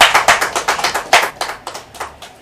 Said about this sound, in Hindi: इस बात पर ज्ञान भाई का एक बार जोरदार तालियों से स्वागत किया जाए।